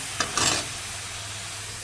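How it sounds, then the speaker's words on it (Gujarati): Onions frying in oil for urad dal, a soft steady sizzle with a couple of brief stirring scrapes at the start, close and quiet. "તો આપણે આને ડુંગળી ચડવા મૂકી દીધી છે"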